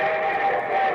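A steady, sustained train whistle, a bright multi-toned chord blowing loudly for about a second.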